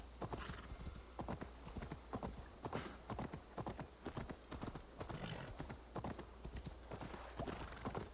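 Horse hooves clip-clop in a steady, even rhythm in the video game Assassin's Creed Valhalla, set around London, a continuous trotting cadence with no talk.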